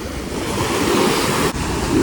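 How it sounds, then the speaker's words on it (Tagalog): Big ocean waves breaking on a beach, a loud continuous roar of surf with wind buffeting the microphone and no voices. "Ang laki ng mga alon ngayon."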